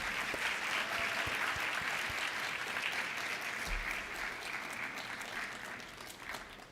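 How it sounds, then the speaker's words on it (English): An audience applauds for a group of grade 3 to 5 students at a Black History oratorical competition; sustained, dense clapping throughout, gradually thinning toward the end. "Can we please give an applause to Group 1,"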